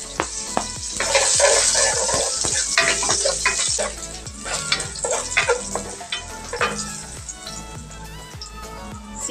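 Garlic frying in a little oil in a kawali, a lively close sizzle dotted with rapid metallic taps and scrapes of a spatula against the pan, with no one talking.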